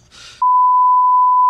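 A steady electronic call tone rings out loud and alone for about a second after a short burst of background noise, from an Instagram call placed by mistake.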